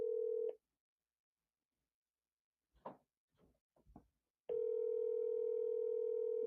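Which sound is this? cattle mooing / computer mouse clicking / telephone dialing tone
telephone dialing tone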